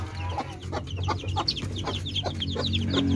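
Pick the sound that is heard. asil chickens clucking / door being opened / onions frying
asil chickens clucking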